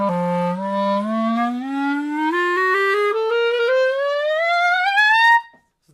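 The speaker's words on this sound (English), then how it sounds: "if I were to gliss from the very bottom," Clarinet gliding upward from its lowest note in one continuous, slightly stepped glissando lasting about five seconds, played alone and steadily loud, with a bright, reedy tone that rises smoothly to a high note.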